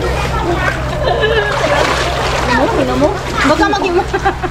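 Water splashes and sloshes at a beach resort in Sarangani as people jump into the sea, with children and adults talking loudly over the splashing and a steady low hum underneath.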